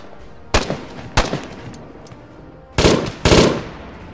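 Four sharp bursts of close gunfire in Arma 3 Global Mobilization, from German weapons, the first two short and spaced apart, the last two louder and longer a moment later, with no talk over them.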